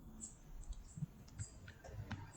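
Faint, irregular clicks of typing on a computer keyboard while filling in an online PAN card correction form, a handful of quiet keystrokes spread unevenly with no speech.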